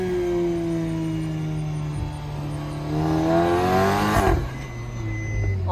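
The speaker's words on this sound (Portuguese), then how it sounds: "olha os pipoquinhos, que legal que ficou, galera" A Volkswagen Golf GTI revs and howls through its gears, its exhaust letting out pops and crackles as the engine note rises and falls, heard close and loud with a sharp burst near the end.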